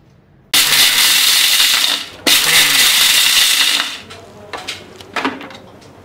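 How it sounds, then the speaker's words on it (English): Mixer grinder coarse grinding roasted urad dal and chana dal, two loud whirring bursts of a couple of seconds each, followed by rattling knocks as the jar settles. "I will coarse grind the pulses."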